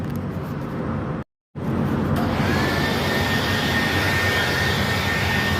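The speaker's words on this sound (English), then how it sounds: "Sounds like my blower's starting to die a little bit" A battery leaf blower clearing out a 53-foot semi reefer trailer roars with a steady broadband whoosh, cuts out briefly, then resumes with a continuous airy drone and a faint rising whine.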